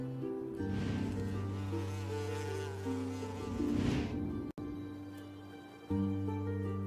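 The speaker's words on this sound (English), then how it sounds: "You just see a bee feeding on nectar." A steady insect buzz hums close by, continuous and droning, with a brief dropout partway through before the buzzing resumes.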